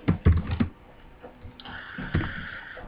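Typing on a computer keyboard, several loud, close key clicks in quick bursts followed by softer, scattered taps, with no talking.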